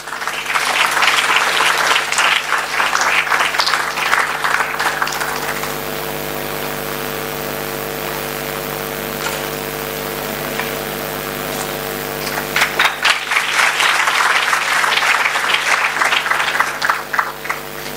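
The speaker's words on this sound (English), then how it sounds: "A huge round of applause" Conference audience applauds a felicitation on stage at an innovation conference: a loud burst of clapping, fading to a steady hum with faint murmurs, then a second strong wave of applause.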